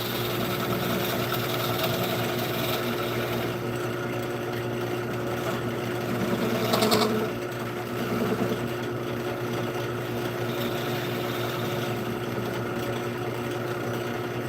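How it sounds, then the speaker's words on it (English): A lathe makes a 3 mm deep center cut in a coin turning job, a steady mechanical whir running throughout with a brief louder scrape near the middle. "We gotta make this center cut 3 mil deep."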